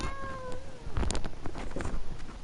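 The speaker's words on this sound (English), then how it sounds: "si è sentito un meow" A cat meows, a clear drawn-out call followed by softer rustling and movement nearby, with no voices.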